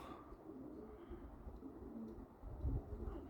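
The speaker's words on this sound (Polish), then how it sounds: "Te gołębie uciekają." Pigeons coo softly in the distance over a steady outdoor rumble, with a low thump of movement near the end.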